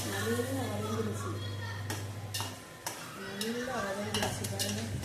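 Sautéed masala being stirred in a cooking pan, a spoon scraping and clinking against the metal with a light sizzle beneath, heard close under continuous talking.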